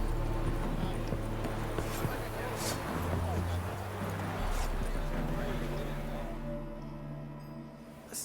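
Horse hooves clip-clopping in The Witcher 3 game, a continuous rapid trotting patter blended with sustained music and ambient sound, fading slightly toward the end, with talking over it.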